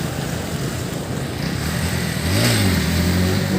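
A motorbike revs hard during wheelie stunt practice, its engine note swelling and climbing sharply in the final second, loud and close with no talking.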